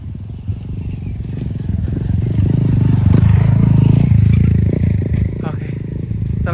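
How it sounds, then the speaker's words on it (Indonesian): A trail motorcycle rumbles along a rough mountain trail at Papandayan, its engine swelling and revving closer with clattering and scraping, while people talk over it. "Itu motornya tuh"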